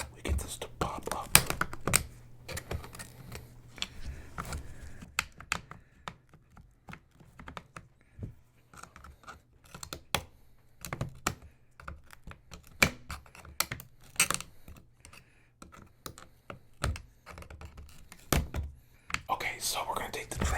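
A MacBook Pro is torn down up close with the trackpad being pried loose, giving dense irregular small clicks, taps and scrapes of tools on metal and plastic under soft intermittent whispering.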